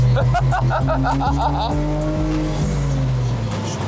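A BMW E90 fitted with coilovers is driven hard, its engine loud and close inside the car, revving up through the gears with audible shifts and pitch drops, while people talk over it.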